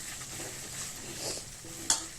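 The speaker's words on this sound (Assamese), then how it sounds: "ভালকৈ পিঁয়াজখিনিয়ে দৈখিনিয়ে গোটেইখিনি ভালকৈ ভাজি থাকিব" Onion and yogurt frying together in a pan for a chitol (clown knife fish) curry, a quiet soft sizzle with gentle stirring scrapes and one brief utensil clink near the end.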